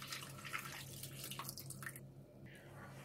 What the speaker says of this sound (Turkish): İnce süzgeç yardımıyla süzüyoruz kompostumuzu ilk olarak.